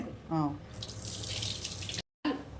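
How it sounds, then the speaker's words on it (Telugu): Water runs and splashes steadily into a cooking pot, briefly interrupted by a short silence, with a faint voice near the start. "ఈ వాటర్ తీసేసుకుందాం వాటర్ మొత్తం వచ్చేసి ఇందులో పోసుకున్నాం"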